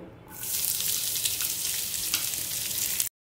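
Chopped onion drops into hot oil with panch phoron five-spice and bursts into a loud, close, continuous sizzle that holds steady, then cuts off abruptly.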